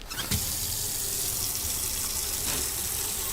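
Water gushes steadily from a tap into a container in the Autopsy Simulator video game, a constant close rushing flow with no talking.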